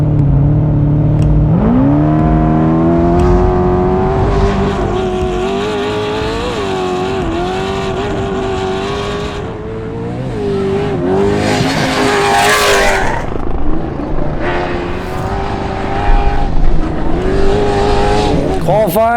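A loud two-wheel-drive off-road race truck engine at the Baja 400 revs and roars steadily with rising and falling pitch, tires whining, over continuous background talk.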